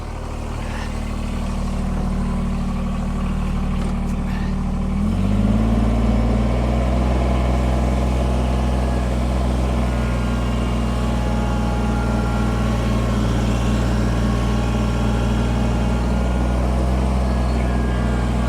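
A Kubota BX23S compact tractor engine drones steadily while pushing light snow, a low constant hum that shifts up in load about a third of the way in and then holds.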